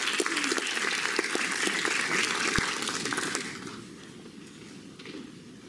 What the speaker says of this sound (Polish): Duże brawa, gratulacje.